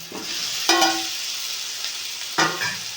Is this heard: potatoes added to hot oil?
yes